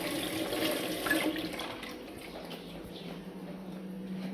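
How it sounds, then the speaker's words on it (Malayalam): Tap water runs steadily while hands are washed at a kitchen sink, a close, continuous rushing splash with slight swells as the hands move under the stream. "കൈ ഇങ്ങനെ കഴുകാം."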